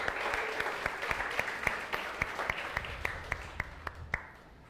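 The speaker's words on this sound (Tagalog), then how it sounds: "The best po ulit palakpak para kay Jesus." Applause from a church congregation after a prayer, dense clapping with a few sharper individual claps standing out, gradually thinning and fading toward the end.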